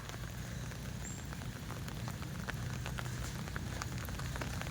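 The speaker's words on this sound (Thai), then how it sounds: "ฝนตก" Steady rain pours down outdoors in a rural village after a downpour, a dense continuous patter with scattered sharper drops standing out, no voices.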